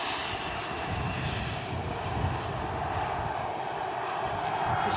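A Ryanair airliner arriving from Bratislava touches down at Manchester Airport in strong gusts, a steady broadband roar of jet engines and wind rumble that holds at a moderate distance throughout, with no voices.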